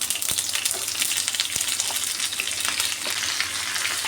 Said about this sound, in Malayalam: കടുക് പൊട്ടുമ്പോൾ നമുക്ക് സവാള അങ്ങോട്ട് ഇട്ട് കൊടുക്കാം